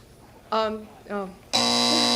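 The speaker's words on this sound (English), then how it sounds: "the quick buzzer cost the champ 5" A quiz show buzzer sounds loud and sustained for about half a second at the end, ringing with a rich harmonic tone after two short bursts of nearby talk or vocal sound.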